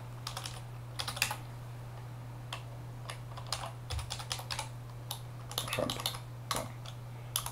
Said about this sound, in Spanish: Es que ando aquí con el teclado, que si mayúsculas,